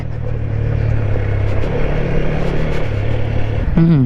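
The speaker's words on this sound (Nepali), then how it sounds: "के साह्रो रन्केको बाइक।" A motorbike engine roars on an off-road dirt track, a loud, steady close rumble that climbs in pitch near the end as it revs.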